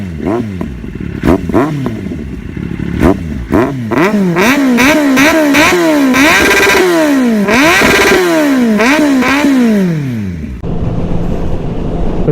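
A motorcycle fitted with a Leo Vince LV10 exhaust revs hard and close, with repeated rising and falling throttle blips that build into long climbing revs before settling toward idle.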